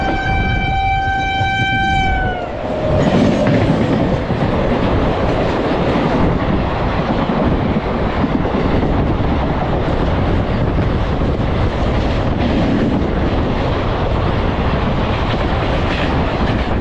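A Sealdah–Silchar Kanchenjunga Express train in sleeper class opens with a long horn blast, then runs on with a loud, steady rumble and rattle of wheels on the track.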